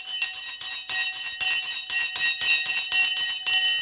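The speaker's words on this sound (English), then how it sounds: "All right, the bell has now gone" An electric bell rings in loud, rapid bursts of metallic clanging, repeated steadily with short gaps between them and no voices over it.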